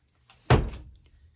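Bolt safety on a 1934–39 Ranger Model 36 .22 rifle, a Marlin 80 made for Sears, pulled back and turned, giving a single close metallic clack with a brief softer click just before.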